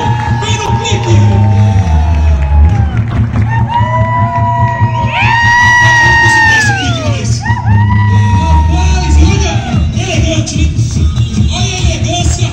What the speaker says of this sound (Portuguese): Senhoras e senhores, máximos aplausos para Barbosa Lima!